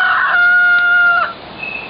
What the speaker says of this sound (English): No, that's not a nightingale, that's a rooster